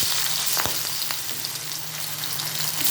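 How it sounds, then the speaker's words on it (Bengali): Prawns frying in hot oil in a pan for a bottle gourd curry give a steady, close hiss of sizzling with a few sharper spits and pops, continuous and alone without speech. "চিংড়ি মাছটা ভেজে আমি তুলে নেব।"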